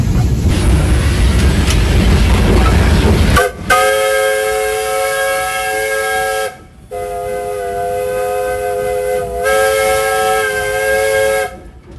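A loud, rushing hiss of steam released from a steam locomotive at a sugar mill on Negros island, then a shrill steam whistle sounds in long blasts separated by brief pauses.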